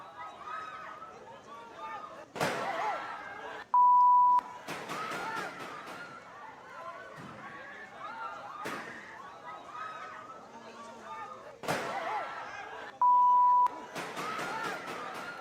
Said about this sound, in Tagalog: Sunod-sunod na putok ng baril po yan